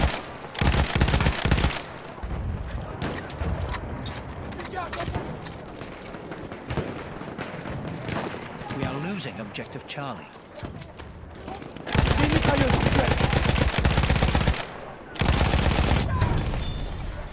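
Rapid bursts of gunfire from a weapon in the shooter game Battlefield 1, loud and sustained across most of the stretch with brief pauses between volleys, dense crackling shots layered over battlefield noise.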